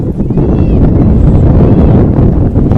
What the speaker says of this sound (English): As you can hear the wind gusting in behind us.